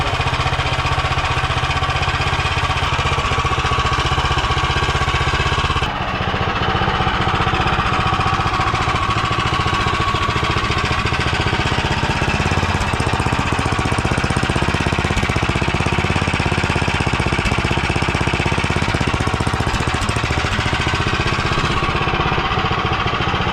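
A 212 Ghost minibike engine fitted with a 24mm D slide carburetor runs steadily and loud, a continuous rough, knocking small-engine drone with a brief dip before settling back into a sustained idle-to-run rattle.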